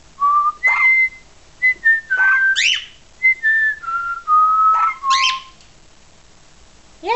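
A person whistles a series of clear, sliding tones in short phrases to a rock pebbler parrot, some rising and falling, loud and close, followed by a brief quiet pause.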